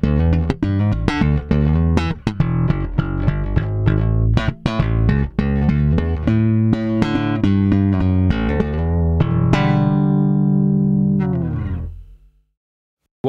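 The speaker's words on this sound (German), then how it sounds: "Hören wir uns gerade nochmal den vorderen Pickup geslappt an, bei halb abgedrehten Höhen." A Warwick RockBass Corvette short-scale bass is slapped through its front pickup with the treble rolled halfway off, giving loud, percussive plucked and popped notes in a busy rhythmic line that ends on a ringing sustained note.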